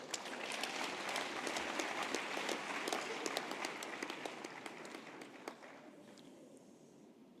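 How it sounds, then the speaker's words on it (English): Graduation ceremony audience claps in a large hall, a fairly quiet, distant-sounding patter of many hands that gradually thins and fades toward the end. "they deserve a big round of applause"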